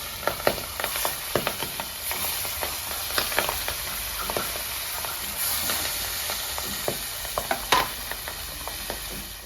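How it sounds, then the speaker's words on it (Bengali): A continuous oily sizzle and hiss of pabda fish frying in oil, with scattered sharp pops and crackles spread unevenly throughout; close by, no voices. "মাছটা ভেজে নেবো"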